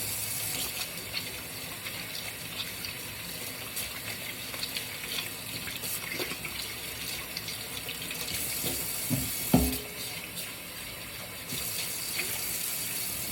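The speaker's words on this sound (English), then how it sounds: "Wash my hands again." A kitchen tap runs steadily into a sink while hands are washed under it, a continuous close splashing flow with small shifts and one brief clunk partway through.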